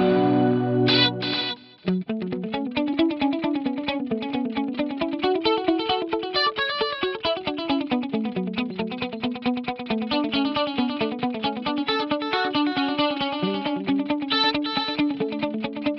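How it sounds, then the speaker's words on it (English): Electric guitar run through a multitap delay pedal with chorus and dual echo, playing a continuous sustained melodic line with shimmering, layered repeats after a brief opening chord, loud and alone throughout. "That's going to be my chorus aspect, and then I've got that lovely dual echo on there."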